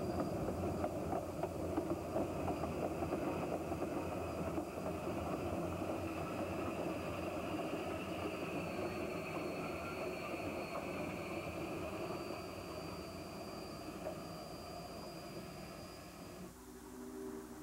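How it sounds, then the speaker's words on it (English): A steam train being turned rumbles steadily nearby with a continuous mechanical roar and a faint high whine, easing off near the end. "here we see the train being turned, ready for the return trip"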